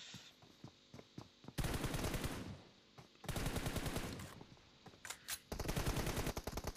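Video game gunfire in an assault shooter match, heard as bursts of rapid automatic fire in three long volleys with a few short single shots between them, loud against a quiet background.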